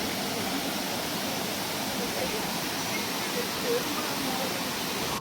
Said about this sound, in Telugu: వచ్చేసాం విభూతి వాటర్ ఫాల్స్ దగ్గరికి